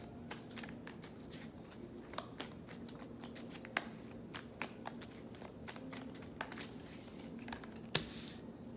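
A deck of tarot cards is shuffled close up, giving repeated soft riffling snaps and flicks in quick, uneven bursts with no voice over them.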